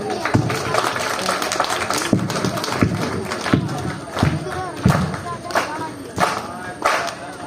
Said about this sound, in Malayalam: ജസ്റ്റ് എനിക്കൊന്നൊരു ക്ലാപ്പ് ഇങ്ങനെ